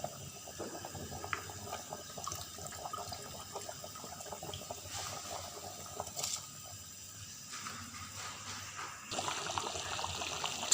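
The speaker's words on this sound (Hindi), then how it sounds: "अब मैं इसमें चावल डाल दूंगी।" Rice tipped into a pot of boiling water while cooking beef yakhni pulao, with steady close bubbling and splashing water throughout and no voices.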